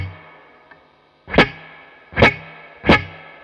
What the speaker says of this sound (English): No doubt you'll hear that that's quite a sweet reverb.